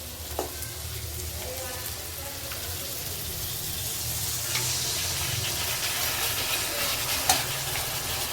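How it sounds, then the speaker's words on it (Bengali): Chicken pieces added to a pan of cooked-down spice masala with yogurt and black pepper sizzle and crackle steadily, close by, with occasional clinks of stirring and no speech. "দেখো মশলাটা কষানো হয়ে গেছে, চলো এবার আমি চিকেনটা দিয়ে দিই।"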